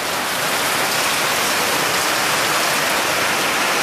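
Steady, dense rain falls in Jamaica in the early morning, a constant broadband hiss close by with no breaks and no voices.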